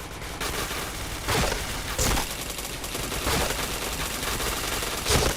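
Rapid gunfire rattles in the video game Point Blank, loud bursts of automatic shots with a few sharper cracks standing out, close and continuous.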